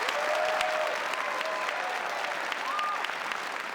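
A burst of crowd applause plays on a live stream, dense steady clapping heard up close and evenly loud from start to end with a few faint tonal blips over it.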